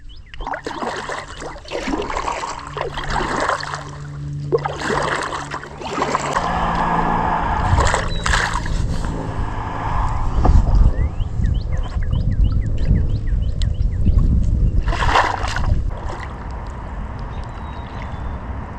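Water splashing and sloshing around a small boat moving along Pheasant Branch Creek toward Lake Mendota, Wisconsin, with occasional paddle strokes and birds chirping faintly in the background.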